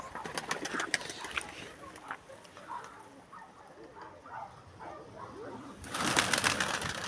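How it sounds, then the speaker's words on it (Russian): Pigeons cooing in a loft or yard, soft repeated coos at moderate distance, with a person talking intermittently and a louder burst of activity near the end. "Голуби."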